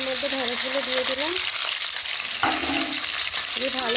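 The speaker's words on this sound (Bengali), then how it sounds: "এবার তেলটা গরম হয়ে গেলে আমি ভেন্ডিগুলো ভালো করে ভেজে নেব।" Okra sizzles and fries in hot mustard oil in a wok, a loud continuous crackle with occasional stirring, while a voice speaks over it intermittently.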